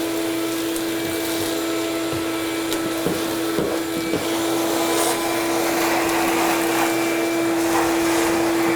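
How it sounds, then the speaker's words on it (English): A vacuum cleaner roars steadily up close with a constant motor hum, punctuated by a few brief clicks and rattles of debris being sucked up from a hardwood bathroom floor. "you've got your vacuum up against it"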